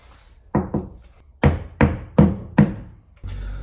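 Hand screwdriver working a screw into wood during a home charger repair: a series of about six sharp, close knocking thunks, each fading quickly, spaced irregularly, with no voices.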